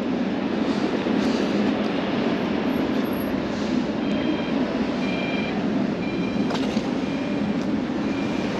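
Trams 4108 and 4110 pick up speed on a Sofia street line near the Geo Milev bus station. Their loud continuous rail rumble and clatter has a faint whine of rising motor tones, with no talking.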